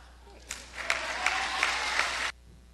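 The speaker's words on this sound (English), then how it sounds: "Let's clap our hands, stand up and shout" Congregation clapping hands during a virtual Easter Sunday church service, a steady burst of applause lasting under two seconds with a few sharper claps standing out, fairly close and alone.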